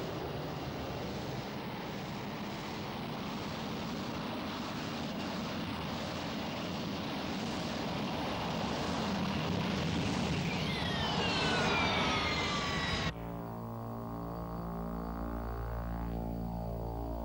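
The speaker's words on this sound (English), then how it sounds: "The Anglo-French SEPECAT Jaguar is a single-seat aircraft powered by two afterburning turbofans." A SEPECAT Jaguar jet with two afterburning turbofans roars loudly and steadily, building to a peak as it passes close, then the sound abruptly gives way to a lower, droning engine hum.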